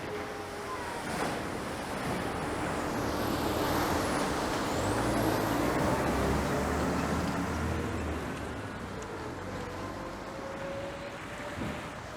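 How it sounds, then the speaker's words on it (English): A truck drives through deep flood water at Rufford Mill, raising a steady, loud rush and churn of displaced water over a low engine rumble, with wind buffeting the microphone. "So here we are, we've got a truck going through."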